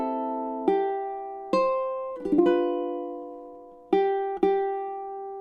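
A ukulele picks the opening of Happy Birthday with the thumb, clear plucked notes ringing out in the tune's familiar uneven rhythm, each pluck decaying slowly, close and alone with no voices.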